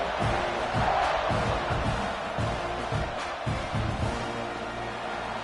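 A roaring stadium crowd at a college football game during a kickoff, a constant loud wash of cheering and noise with a commentator's voice running over it.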